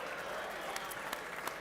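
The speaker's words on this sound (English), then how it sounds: "Your hands aren't in the air bidding, so you can applaud." Audience at a classic car auction giving brief, steady applause, a continuous wash of clapping hands at moderate distance for a moment.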